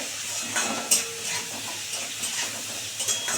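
Ingredients for egg chow mein sizzling in a pan while a spoon scrapes and stirs, a constant frying hiss broken by a few sharp metallic clinks, close up.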